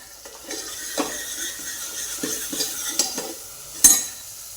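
A spoon stirs horse gram curry seasoned with red chilli powder in a pan, giving repeated scraping strokes and clinks over a steady low sizzle, close and fairly loud, with no talk.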